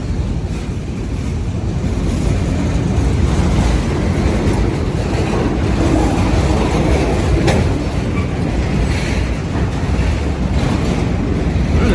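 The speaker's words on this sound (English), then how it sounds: "monster train loaded with automobiles." A long freight train loaded with automobiles climbs uphill along a city street, producing a loud, steady, close rumble of rolling wagons throughout.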